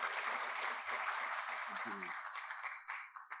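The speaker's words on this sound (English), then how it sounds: "Can we give them a quick round of applause for their efforts?" Audience applause at a mining club lunchtime event in Sydney fills the room steadily for a few seconds, while a speaker briefly talks over it.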